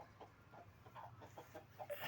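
A hen kept in a cage with her brood of twelve or thirteen chicks gives soft, faint, repeated clucks in a quick uneven rhythm, heard at low volume with no talking.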